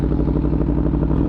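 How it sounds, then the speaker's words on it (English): Aprilia Tuono V4 motorcycle with an SC Project exhaust, its engine running loud and close with a steady, rough pulsing throb and no voices. "Let's get a couple revs."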